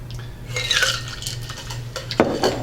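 A Sidecar cocktail is strained from a shaker into a cocktail glass, a short trickle and splash of liquid pouring close by, with a light clink of the strainer near the end.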